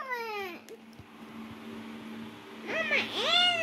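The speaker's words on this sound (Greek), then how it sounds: "άκουσε ένα ακόμα τσιριτό νιάου" A cat gives shrill, rising-and-falling meows, one near the start and a couple of high, strained ones toward the end, close and clear over a faint steady hum.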